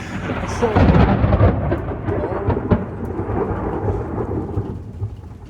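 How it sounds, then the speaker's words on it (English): A loud, close rumble of thunder from nearby lightning rolls and slowly fades, with steady rain underneath. "that lightning was really close."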